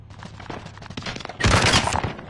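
Incoming gunfire in a video game, scattered shots that swell into a loud, dense burst of fire near the end, with no one talking.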